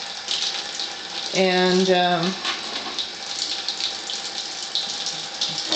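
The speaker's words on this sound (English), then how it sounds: "I'll just go ahead and start the water flow going." Water flows steadily from Melody and Tyent water ionizers at level 3, a continuous hissing stream that runs throughout, with a brief tonal hum and a short spoken word over it.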